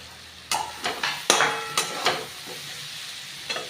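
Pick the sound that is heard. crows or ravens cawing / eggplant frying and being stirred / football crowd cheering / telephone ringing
eggplant frying and being stirred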